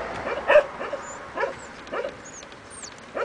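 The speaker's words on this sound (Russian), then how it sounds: "такие хорошие собаки. Собаки такие хорошие." Small puppies yipping and whimpering in a few short, close bursts spread through the moment, with high thin squeaks in between.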